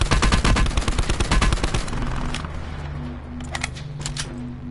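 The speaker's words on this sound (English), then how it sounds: "A guy's got a micro SMG, be careful." Rapid bursts of micro SMG fire in a first-person shooter, loud and close, dense at first, then thinning to a few scattered shots over a lingering rumble.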